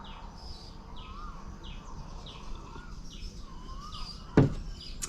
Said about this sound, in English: Birds are singing this morning.